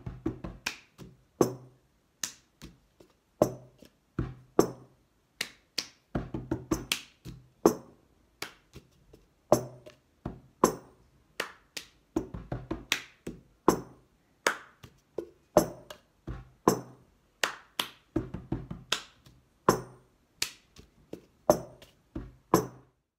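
Cup song rhythm performed on a table, a repeating pattern of sharp hand claps and hollow cup taps and slaps, crisp and close, looping several times in a steady beat with no voice.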